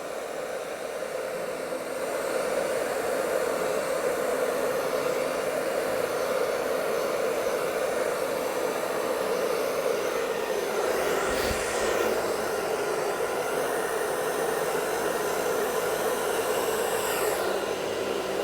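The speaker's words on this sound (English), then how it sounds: "I'm gonna angle my dryer the other way this time" Hair dryer blowing air across a Dutch pour painting with an ocean-blue acrylic, a steady loud whooshing drone that starts after a moment and runs unbroken, close to the mic with no talk.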